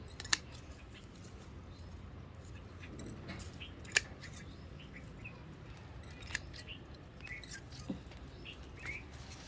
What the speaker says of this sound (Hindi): ये सूखी सारी डंडियाँ ऐसे निकाल देंगे हम काट काट के